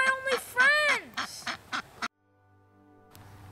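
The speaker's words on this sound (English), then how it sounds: "Stop playing with the ducks!" A cluster of ducks quack loudly in rapid, overlapping bursts for about two seconds, then cut off sharply, leaving a faint low hum.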